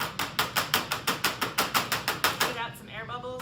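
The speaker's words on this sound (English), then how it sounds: "You can give it a few taps on the table just to even out" Chocolate mold tapped on a table about a dozen times in a steady, even rhythm, close and crisp, ending with a brief ringing rattle as the taps stop.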